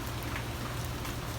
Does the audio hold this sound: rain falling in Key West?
yes